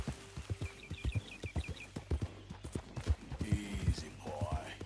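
Horse hooves clip-clopping at a steady walking rhythm in the video game Red Dead Redemption, close and distinct, with brief low vocal sounds and a faint whinny mixed in.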